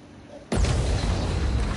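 A sudden loud bomb blast in Need for Speed Payback, one sharp boom that swells into a sustained roaring rumble after a quiet lead-in.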